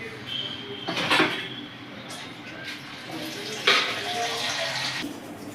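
Water poured into a pan of raw catla fish curry, heard as two broad splashing bursts amid a steady kitchen hiss, with no talking.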